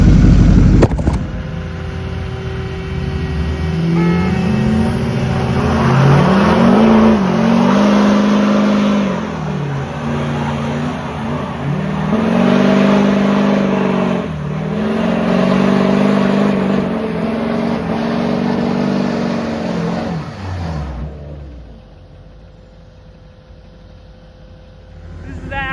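A Duramax pickup in a tug of war against a skid steer, its engine roaring and revving hard in repeated surges as the tires spin, loud and close before cutting off abruptly.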